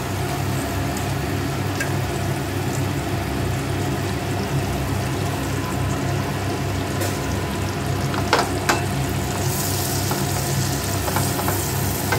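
Garlic frying in melted butter for a creamy mushroom dish, giving a loud, steady, dense sizzle throughout with a few sharper crackles and a faint background hum, no voices.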